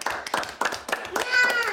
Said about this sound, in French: Bravo, on applaudit le roi.